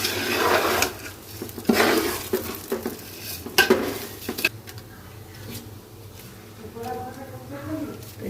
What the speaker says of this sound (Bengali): ভাজা হবে চালটা